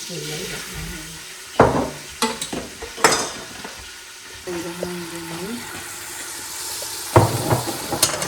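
Flour being stirred in a pan over low heat to start a pasta sauce. The spoon makes loud, irregular scrapes over a steady sizzle, and a voice comes in briefly midway.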